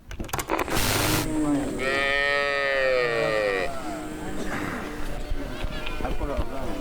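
Mundari cattle in South Sudan moo during a morning cow-blowing and urine-showering routine, one long loud bellow rising over rustling, shuffling activity and scattered voices nearby.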